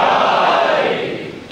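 A crowd at a Shia religious gathering with Maulana Mohamadaziz Abedi shouts a loud, sustained collective response, a dense roar of many voices that fades slightly toward the end.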